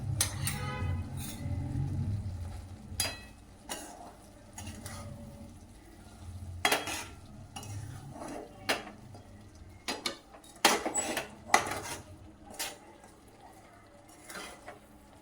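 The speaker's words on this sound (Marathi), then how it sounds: "म्हणजे छान हलवायचं" A spoon stirs a coconut barfi mixture with a spoonful of ghee in a pan over low heat, giving irregular clinks, scrapes and taps against the metal, with occasional louder knocks.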